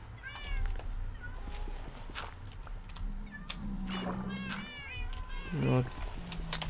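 A cat in Minecraft meows several times, short nasal calls scattered between someone speaking Polish throughout.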